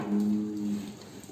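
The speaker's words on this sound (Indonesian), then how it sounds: "Dan juga bisa dilihat sapi-sapi super di kandang ini" A single cow in a cattle barn holding Limousin, Simmental, PO and Javanese breeds lets out one sustained low moo, close and clear, fading into quiet stable ambience.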